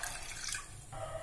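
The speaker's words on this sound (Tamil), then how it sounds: "நான் 2 கிளாஸ் தண்ணி விட்டுருக்கேங்க." Water is poured into a pressure cooker for barley vegetable soup, a faint, brief splashing trickle heard close, with no talk.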